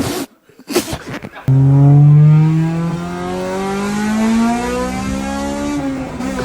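A loud, raw Honda car engine with no exhaust revs up and holds a droning, harmonic-rich roar, preceded by a few brief clicks and knocks.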